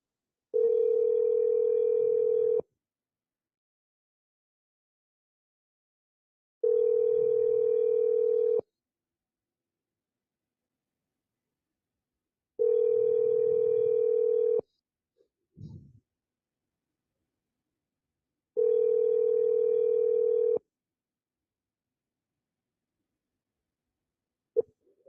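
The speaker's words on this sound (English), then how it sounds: "Can you guys hear that ringing?" A phone ringback tone sounds four times, each two-second ring separated by long silences, with a faint click and rustle between rings.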